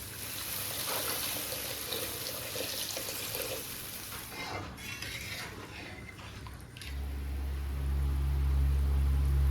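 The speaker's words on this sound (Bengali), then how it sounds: "এবার পরিমাণ মতো জল দিয়ে দেবো।" Water pours into a simmering potato and paneer curry in a pan, a steady close wash of liquid noise that swells a little louder near the end, with no voices.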